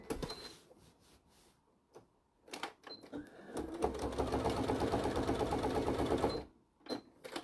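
A sewing machine races along straight stitching lines on a small bag. After scattered clicks and fabric handling, a loud, sustained burst of rapid stitching runs for about three seconds, then stops abruptly into a few light knocks.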